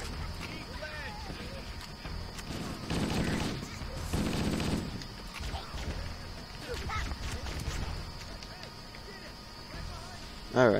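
Gunfire in the video game Halo: bursts of rapid shots that swell twice near the middle, set against steady game ambience and occasional clicks, with a louder pop at the very end.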